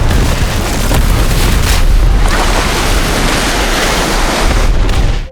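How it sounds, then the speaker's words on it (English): A massive dam explosion in the film Fear the Walking Dead roars out and keeps rumbling as a loud, sustained wash of low noise, like debris and water surging, before cutting off abruptly. "resulting in a deafening explosion that reverberated throughout the dam."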